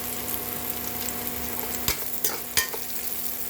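Bitter gourd and potato pieces frying in a pan, with a steady sizzle and a few sharp clanks and scrapes of a spatula stirring close by.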